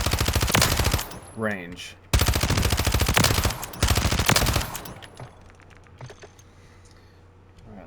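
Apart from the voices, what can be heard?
SMG gunfire on a video game firing range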